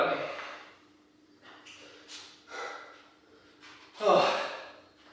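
Heavy, gasping breaths after a weightlifting set on back day, a run of sharp exhales and snorting inhales with a loud gasp near the end, close to the microphone.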